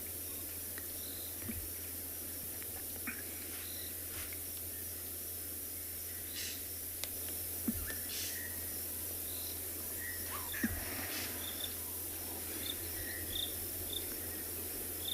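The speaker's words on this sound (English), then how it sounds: "The crickets are calling." A steady high-pitched chorus of crickets at sunset at Tswalu in South Africa fills the background continuously, faint and distant, with occasional soft clicks and no talking.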